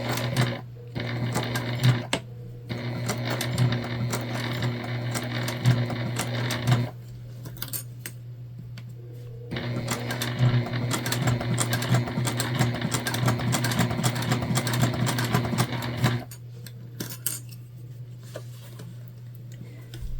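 A sewing machine stitches a Zora shoulder bag in fast, steady bursts with a constant motor hum, stopping briefly between runs and starting again, close and loud with no talk.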